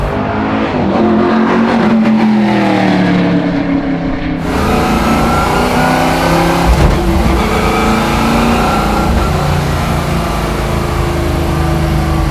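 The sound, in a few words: car engine revving while driving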